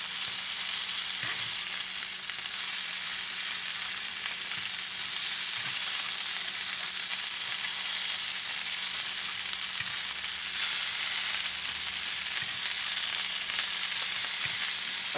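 Seafood sizzles steadily on a hot grill after being flipped and pressed, a constant bright crackling hiss with a few faint soft taps, no voices.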